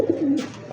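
A single pigeon gives a short, soft, low coo close by. It is a Bombay satin pigeon kept among breeding stock.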